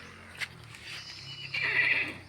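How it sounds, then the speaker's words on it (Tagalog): A horse gives a high, shrill neigh near the end, preceded by faint rustling and a brief knock, fairly close and moderately loud. "May kabayo oh."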